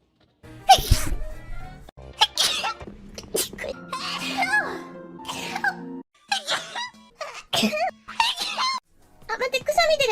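A woman lets out a sharp sneeze, followed by more sneezes and short bursts of talk and giggling in a quiet indoor setting.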